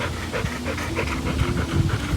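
A heavy-set dog pants steadily and rapidly up close, a rhythmic run of breathy huffs with no other sounds.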